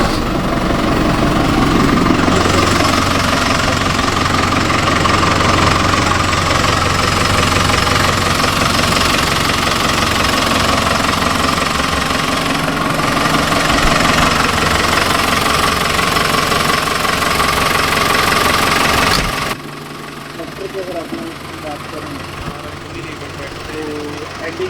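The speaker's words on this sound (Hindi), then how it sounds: "अगर मैं ट्रैक्टर के यहाँ पे आपको ट्रैक्टर की अगर आवाज़ सुनाऊँ तो" A New Holland TD5.90 tractor engine runs loud and close with a steady knocking diesel idle, then drops sharply quieter near the end as if muffled, with birds faintly audible afterward.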